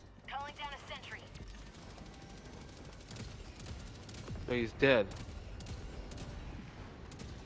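Heavy cannon fire in the Helldivers 2 combat game, a scatter of booming shots and impacts rumbling through a busy battle mix, with players talking over it.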